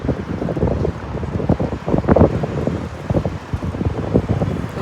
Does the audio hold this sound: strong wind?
yes